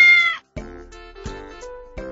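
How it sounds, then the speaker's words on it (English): A cartoon cat meows in a Mickey Mouse Clubhouse sound-matching video game, several clear, tonal mews in a row with short gaps between them, close and alone. "A cat. Sounds like this."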